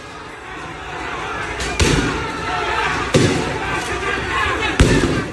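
Several loud booming tear gas shots are fired at a student protest crowd outside a regional parliament building in Kalimantan, Indonesia, ringing out over the constant roar of the large outdoor crowd, spaced a second or so apart.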